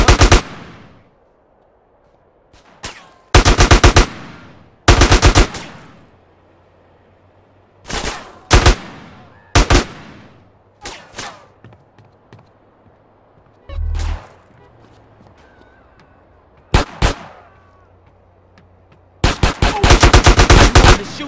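Loud, close gunfire in Grand Theft Auto San Andreas, fired in short automatic bursts and single shots separated by quiet gaps, each burst sharp and reverberant, with brief faint voices between them.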